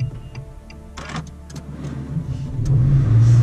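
A car engine cranks and turns over, then settles into a steady low rumble that grows louder toward the end, heard up close.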